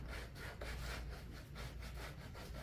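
Hand sanding of a Dollar Tree craft piece, a rhythmic back-and-forth rasping scrub repeating steadily close by, no speech.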